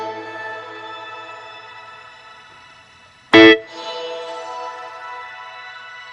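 A Line 6 Helix shimmer reverb effect holds sustained, layered harmonic tones from a played instrument. A sharp loud attack cuts in midway and is followed by a bright, lingering wash that fades out.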